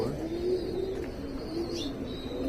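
Soft, low pigeon coos repeat from a rooftop pigeon loft in Karachi over a steady background hum, with faint chirps higher up; no talking.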